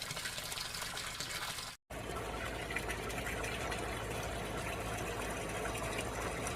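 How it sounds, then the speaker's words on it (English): A strong pump pours water into a goldfish fry tank, a continuous rushing gush that cuts out briefly before resuming steadily, close and fairly loud. "Sure can hear that water coming in. That's a pretty strong pump for these guys"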